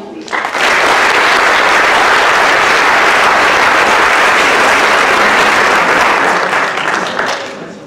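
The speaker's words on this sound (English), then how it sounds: "one more round of applause for these young ladies" A loud, sustained round of applause breaks out at a school fall athletic awards program and holds for several seconds, honoring a group of young women.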